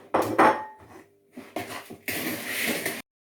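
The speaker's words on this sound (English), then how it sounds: "I'm now going to put the butter, the melted butter, and give it a good stir." Melted butter being stirred into a crushed ginger nut and Coco Pop mixture in a bowl: a few close, uneven scraping strokes, then a steady gritty stir that cuts off abruptly.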